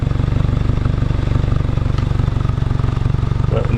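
A Subaru WRX (VB) with a titanium single-exit exhaust idles about four feet away, a steady, even low pulsing rumble throughout, with brief talking over it.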